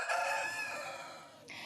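A rooster crows in one long, loud, harmonic call, sliding down near its end, with a brief fowl sound starting just after.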